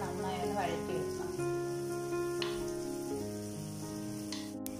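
Chopped shallots and curry leaves sauté in a pan for a Kerala prawn curry, giving a steady close sizzle with soft stirring beneath a constant hum.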